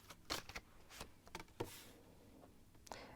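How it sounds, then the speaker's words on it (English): Tarot cards being shuffled by hand, a few soft, quick riffles and taps in close, quiet bursts with pauses between. "I'm going to shuffle and see what the cards have to say."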